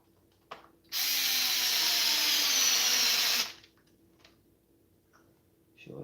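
A power tool driving screws into a part of an RC car, one loud whirring burst of about two and a half seconds, with light clicks and handling noises before and after.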